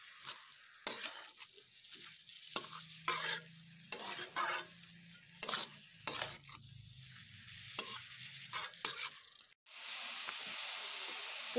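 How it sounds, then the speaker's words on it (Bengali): Giant taro stalks fry and sizzle in a pan, with repeated bursts of stirring and scraping against the metal over a steady hiss, ending in a loud, continuous sizzle up close. "একটু বেশ টাইম দিয়ে আমি ভেজে নেব"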